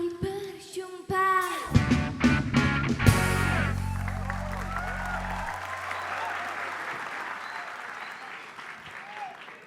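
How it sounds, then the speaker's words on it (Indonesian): A studio audience at a television talk show breaks into loud applause and cheering after a musical sting, the clapping swelling early then tapering gradually while a host talks over the start. "Itu dia tepuk tangan buat Ame"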